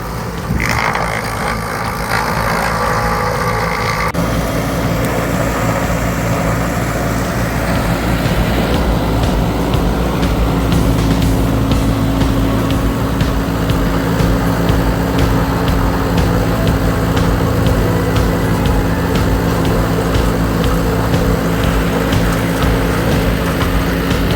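A small Skaut TB-904 C tractor engine runs steadily and loudly throughout with a constant low drone, some clanking and mechanical rattle from a wood chipper layered on top.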